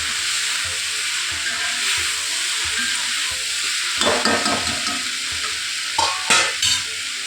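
Mixed vegetables stirred in a pan after salt is added, a low hissing sizzle with a faint periodic hum, then louder clattering stirs and scrapes near the end, close and with no voices.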